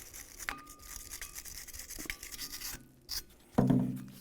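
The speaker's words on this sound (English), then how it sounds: "I'll use a wire brush." A wire brush scrubs a front brake caliper bracket on a 2009-2018 Ram 1500 in short, rasping strokes with brief pauses, close up, ending in a louder harsh scrape.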